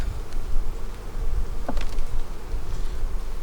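Honey bees swarm around an open, defensive hive during fall feeding, producing a dense, steady, close buzzing drone that fills the whole stretch without speech.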